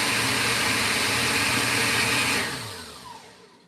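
An electric whisk or hand mixer whirs at a steady, loud pitch for a couple of seconds, then winds down and fades as it is switched off.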